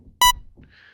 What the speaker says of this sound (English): It's almost like a beep you'd hear like in a hospital